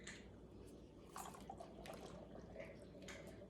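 Undrained canned great northern white beans are poured into a dish, giving a faint, close, wet glugging and squishy slosh of liquid and beans that lasts a few seconds.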